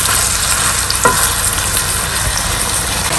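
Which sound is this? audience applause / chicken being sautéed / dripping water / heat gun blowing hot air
chicken being sautéed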